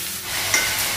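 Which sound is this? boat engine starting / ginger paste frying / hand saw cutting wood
ginger paste frying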